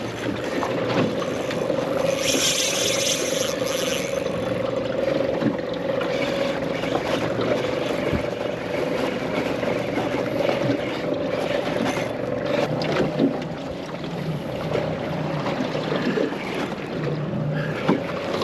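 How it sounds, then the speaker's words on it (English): A fishing boat's motor runs in gear out at sea during a snapper fishing trip, giving a steady droning hum with wind buffeting the microphone throughout. "I'm just putting the boat in gear so I can pop back and try and get over the top of it a bit."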